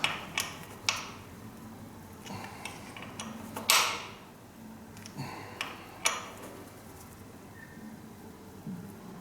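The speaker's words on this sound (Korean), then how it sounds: "이 부분을 이제 꽉 조여줍니다. 렌치를 이용해서." A wrench tightens the bolts of a Makalu 9900D bicycle's hydraulic disc brake, giving a series of sharp metallic clicks and ticks at irregular intervals, close and fairly quiet, with no talking.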